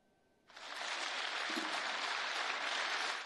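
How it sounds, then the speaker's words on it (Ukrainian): Applause in the European Parliament chamber bursts in suddenly after a quiet moment and continues as a loud, dense, even roar of many hands clapping from a large assembly. "Оплески та привітання приймає німкеня Урсула фон дер Ляйн."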